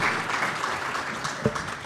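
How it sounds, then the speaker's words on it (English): Audience applause for conference panelists at a pension supervisors conference, a dense steady wash of clapping from a crowd in a hall throughout. "Another round of applause as they make their way back to their seats"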